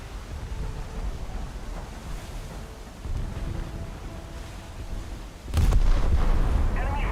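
Naval gunfire in a warship video game, deep rumbling blasts with a heavy, sharp report near the end over a constant low roar of engine and sea, with no talk.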